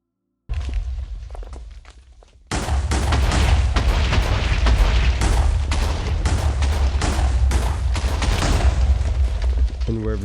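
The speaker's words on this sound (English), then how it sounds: "wherever you shoot, it will cause an explosion" Explosions go off from gunfire in the Kaiju Kraft game, a rapid string of loud booms and blasts after a brief quieter opening, dense and close throughout, with a voice speaking over parts of it.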